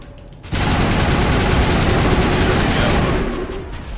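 Shotgun fire in the Mass Effect game, a sudden loud blast opening into a sustained, dense roar of gunfire that holds steady for about two and a half seconds before tapering off.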